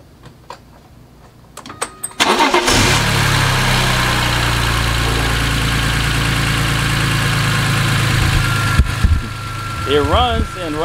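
A BMW S54 engine swapped into an E36 runs steadily with its MAF sensor unplugged, a loud, sustained idle after a brief start-up, close to the microphone, with a few clicks near the end.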